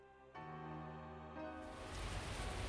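Steady rain in the cyberpunk game Kikokugai, a soft hiss that swells and fills the mix over a low sustained musical drone, growing louder toward the end.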